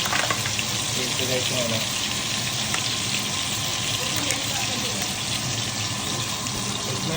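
Garlic and onion sizzle in a pan beside a New York strip steak, a continuous crackling hiss at moderate level while a person talks over it.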